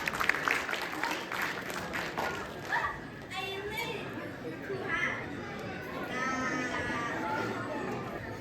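Children's fashion show audience claps and cheers in a hall, scattered applause mixing with chatter and an announcer's voice over it, fading into crowd murmur.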